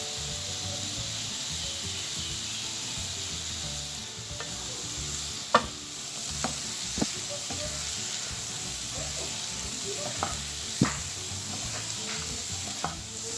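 Salted bitter gourd pieces fry in oil in a pan, giving a steady, moderate sizzle while being stirred, with a few scraping taps of the spoon against the pan.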